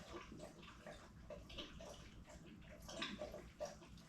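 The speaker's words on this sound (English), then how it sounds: "That's Coda drinking water." Coda the dog lapping water up close, a steady wet sloshing and dripping with irregular louder laps, fairly quiet overall.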